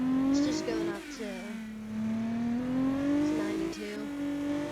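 A car engine held at high revs, steady droning pitch that dips and climbs again as the throttle shifts, loud and close, with no talking over it.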